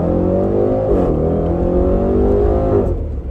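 A 2020 Range Rover Velar SVAutobiography Dynamic Edition on the road, its engine droning loud and steady throughout, with a brief drop in pitch near one second as it shifts, then rising again under acceleration.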